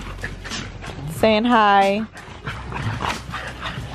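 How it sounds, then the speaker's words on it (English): Puppies out in a backyard, one giving a clear drawn-out whimpering whine up close, with soft yips and shuffling around it and a person talking in the background. "So as of right now, we've got all the puppies."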